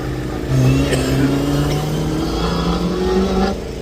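A circuit-style race car at a hillclimb accelerates hard, its engine revving upward through rising gear pitches, loud and close, with a brief lift between shifts before pulling on again.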